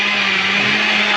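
An electric blender whips vanilla cake batter to a foam, running continuously at high speed, a loud steady whir with a constant hum beneath and no pauses.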